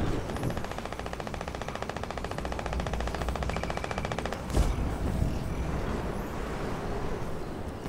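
Gunfire in a Fortnite-style battle royale match, a steady rapid train of shots through the first half, then a louder burst and noisier, scattered shooting, fairly close with no talk.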